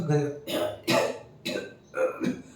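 A voice imitates a series of throaty coughs, about five rough bursts in quick succession, close and fairly loud.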